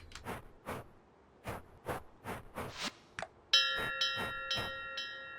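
Bells rung in a farm scene in the video game Fields of Mistria: a run of separate clanging strikes at uneven intervals, followed by a few brighter, sustained ringing tones, clear and alone with no talk.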